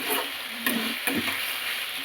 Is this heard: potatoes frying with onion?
yes